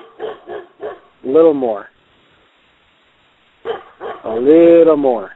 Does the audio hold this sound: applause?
no